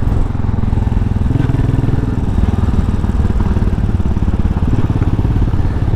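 Royal Enfield Classic 500 limited-edition motorcycle engine running while riding, a steady loud thumping single-cylinder rumble close to the mic throughout, with no talk.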